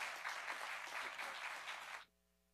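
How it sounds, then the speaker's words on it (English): Audience applause for candidates at a governor and congressional candidate forum: a steady burst of clapping from a crowd for about two seconds, fairly close, then cutting off abruptly into near silence. "Let's give both candidates a round of applause."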